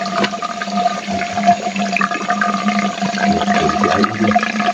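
Steady, loud rush of water gushing from an unclogged gravity pipe on a farm, pouring and churning continuously, with a low rumbling undertone and no voices.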